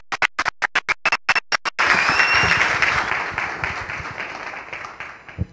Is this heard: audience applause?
yes